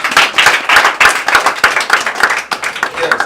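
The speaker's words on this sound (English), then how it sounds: "Can you clap for yourself?" Audience at a school program in Waterloo, Sierra Leone clapping for themselves, a loud close burst of uneven handclaps in quick rhythm, with voices mixed in.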